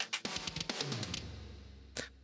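Drums run through a heavily distorted parallel crush bus: a loud, gritty pattern of rapid hits with a harsh bright edge, then a decaying roar and one last isolated crack near the end.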